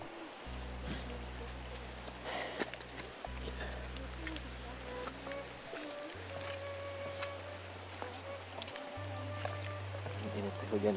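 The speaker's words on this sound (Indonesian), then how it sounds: "Tapi ini teh hujan atuh" Heavy rain falls during a trip home from rice fields along a rough track, a constant wash of hiss under a loud droning engine hum that shifts pitch midway.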